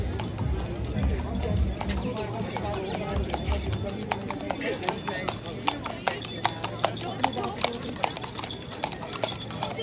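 Horse hooves clip-clop in a quick, steady rhythm during an outdoor ride, sharp and fairly close, while people talk and chatter over them throughout.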